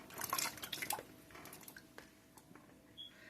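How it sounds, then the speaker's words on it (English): Washed potatoes go into a bowl of cold water with a few soft drips, splashes and squishy plops, quiet and close, with no voices. "Now we're going to stick them in our cold water."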